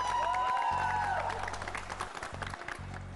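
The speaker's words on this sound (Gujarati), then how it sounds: "અહીંયા તાળીઓ થવી જોઈએ એમના માટે" An audience on a stage show applauds with a brief burst of clapping under a steady low hum and some talking.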